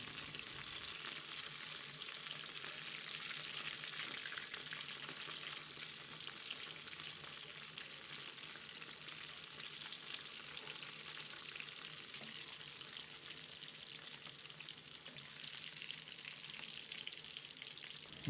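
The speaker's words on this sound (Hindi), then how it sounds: "माशाल्लाह से मछली हमारा बिल्कुल फ्राई क्रिस्पी हो चुका है" Fish frying in hot oil for a crispy Lahori-style fish fry, giving a steady, dense, loud sizzle that holds without pause throughout, with no voices over it.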